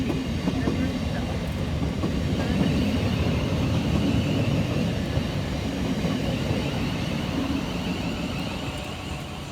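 A Class 700 electric multiple unit, 700-053, runs through Shortlands station on an empty working from Bellingham Sidings to Orpington, giving a steady loud rumble with rail clatter for the whole stretch, close by and fading slightly at the end.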